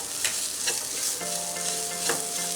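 Chili powder and mint leaves fry in a pan with a steady close sizzle. A spoon scrapes and stirs in a few distinct strokes, and there is no talking.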